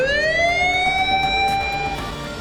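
A loud emergency siren wails close by, sweeping up in pitch and then holding a steady, piercing tone.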